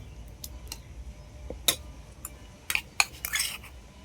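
Pitha batter with water and date-palm jaggery is stirred in a bowl, making a few sparse, light spoon clinks and taps against the vessel. Close and quiet, with no talking.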